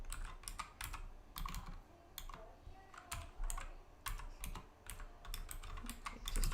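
Computer keys clatter in steady, irregular bursts of typing over a faint background hum. The typing is close and moderately quiet, with no talk.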